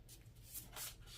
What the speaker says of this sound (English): I already shuffled these cards, but I just like to shuffle them on camera too,